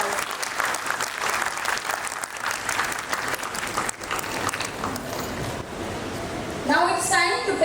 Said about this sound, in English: let's give a huge round of applause for our little stars